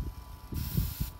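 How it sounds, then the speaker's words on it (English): Hairspray and Lysol aerosol cans sprayed into a tennis ball cannon, giving a close, short hiss of spray lasting about half a second amid soft handling noises. "So you take the hairspray and the Lysol."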